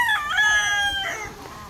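A breeder chicken makes a short, clear crow-like call over a low background murmur, close and fairly loud, tapering off after about a second.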